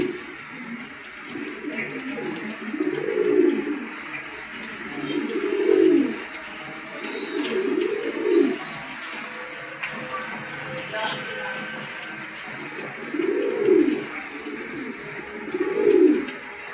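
Pigeons at a pigeon market coo in low, throaty rolling calls, about six distinct bouts spaced a few seconds apart over a quiet background hum.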